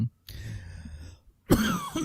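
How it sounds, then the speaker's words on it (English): A person coughs and clears their throat in two bursts separated by a brief silence, close to the microphone, with no speech. "I'm so sorry about the coughing."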